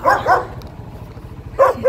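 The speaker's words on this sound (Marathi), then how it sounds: "बापरे कुत्रा" A dog barks twice near a house, a short pair of sharp barks, then goes quiet over a low hum before two more quick barks come at the end.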